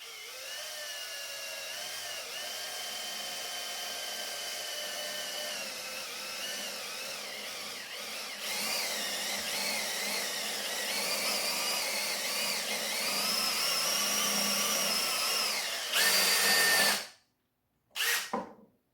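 A power tool cuts holes in a plastic bucket being made into a homemade washing machine, giving a loud, steady, high-pitched whine for about sixteen seconds before cutting out, then one brief final burst.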